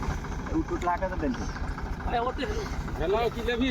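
A steady low tractor engine rumble idles throughout, with voices talking over it nearby.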